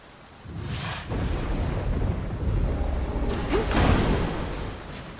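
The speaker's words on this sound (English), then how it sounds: "Raining again." Rain hisses steadily in a Hades II game scene while heavy thunder rumbles roll in loud and close, swelling in broad bursts with a sharper crackling peak near the end, no talk over it.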